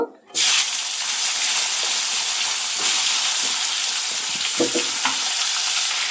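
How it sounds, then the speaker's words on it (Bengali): Loud, steady sizzling of cauliflower frying in hot oil, starting abruptly and continuing throughout, with a few light scrapes and stirring clicks. "এবার ওই তেলে আমি কফিগুলো ভেজে নেব"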